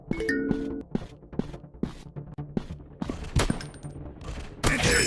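Gunshots in a Counter Terrorist FPS shooting video game, a series of sharp, separated shots with thuds and clatter in between, some louder and closer than others.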